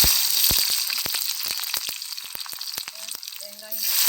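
Cumin seeds and crushed garlic frying in hot oil for a spinach and lentil mash, a close sizzling hiss punctuated by sharp irregular pops and crackles as the seeds burst.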